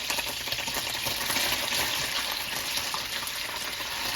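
A sliced medium white onion browns in hot oil in a pan, giving a steady, dense frying hiss with faint crackles throughout and no voices.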